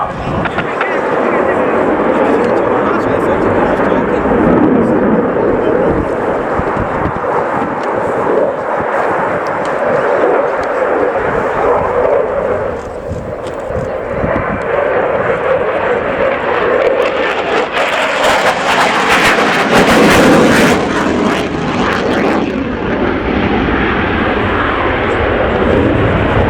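A Czech Air Force Gripen fighter jet roars through a flying display at the RIAT air show at Fairford, its loud, sustained engine noise swelling into a harsh, full-band blast, with voices faintly underneath.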